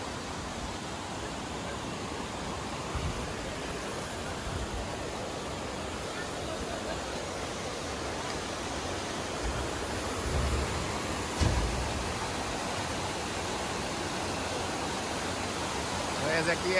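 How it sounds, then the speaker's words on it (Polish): A waterfall, carrying little water, gives a steady, broadband rush of falling water heard close by, continuous and even throughout with only slight swells. "Ojej, to ten wodospad."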